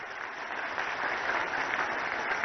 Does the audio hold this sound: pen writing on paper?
no